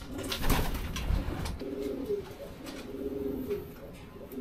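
Racing pigeons in a loft during a derby race season coo steadily, with soft repeated throaty calls layered over one another, fairly close and moderately loud, alongside some light background rustling.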